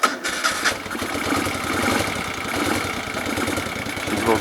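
A 1973 Moto Guzzi motorcycle engine with no choke starts cold, with a sharp cranking burst at the start before catching and settling into a rough, uneven idle close by.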